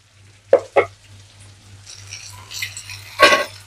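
Green chillies frying in oil with salt added, a soft sizzle with a few sharp crackles and pops over a steady low hum, one louder burst near the end.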